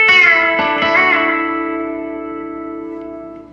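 Electric guitar in D plays a B-bender lick on the top two strings, a few picked notes bending up, then a long chord ringing out and slowly fading, clean with a touch of reverb, no talking.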